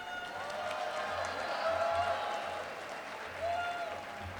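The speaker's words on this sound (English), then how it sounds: "Please join me in giving a loud round of applause for Representative Schumacher to the stage" A crowd at a disability services day event at a state Capitol gives a steady round of applause for a state representative, fairly soft and distant in a large hall, with faint voices and murmurs beneath.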